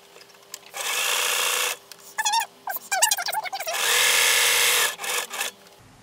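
A sewing machine stitches pinwheel quilt block seams in two long, steady whirring runs with shorter bursts between them, and brief vocal sounds come in the pauses.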